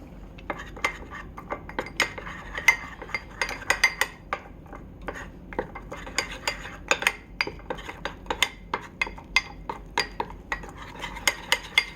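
A spoon clinks and scrapes repeatedly against a bowl while stirring brownie batter, in quick, uneven strokes, close up, with no talking.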